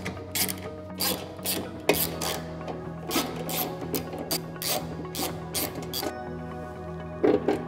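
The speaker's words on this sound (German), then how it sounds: "Dafür lösen wir diese drei Muttern" Metal tools clink and scrape as three nuts and a screw are loosened on the motor cover of an APV pneumatic seed drill with hydraulic blower, with steady, close, irregular rattling throughout and a low mechanical hum underneath.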